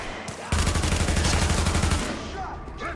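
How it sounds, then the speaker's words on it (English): Rapid automatic gunfire in the shooter game The Division, a loud sustained burst of about a second and a half with a deep thudding pulse, followed by fading echo and faint background game noise. "I want to shoot that guy around the corner."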